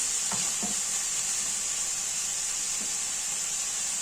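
Steady, bright sizzling of onions frying in a hot pan, with a few soft clinks and scrapes of stirring early on.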